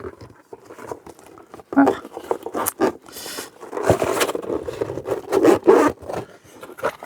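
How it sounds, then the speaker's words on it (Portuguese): A ukulele case zipper is drawn open in uneven, rasping pulls along the case's curves, close and moderately loud, with a steady scraping quality. "E para você abrir o case direito, você tem que abrir todo o zíper."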